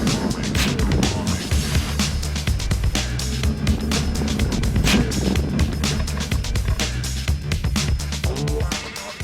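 A four-wheel drive on semi-deflated tyres, dropped to 6 psi, turns sharply at speed on beach sand. A dense, continuous roar of engine and churning tyres stays loud and close for the whole stretch.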